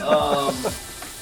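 A burger patty and onions searing on a hot griddle, a brief close sizzle with a few crackling pops that fades within about a second.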